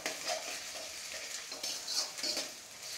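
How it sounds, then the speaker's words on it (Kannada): Ginger garlic paste frying in a pan while being stirred, a steady close hissing sizzle with scraping stir strokes throughout, no voices. "ಇದು ಇವಾಗ ಫ್ರೈ ಆಗ್ತಾ ಇದೆ."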